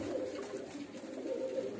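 Teddy pigeons, a breeding pair in a loft, coo softly and steadily in low, rolling murmurs that run through the whole moment without pause.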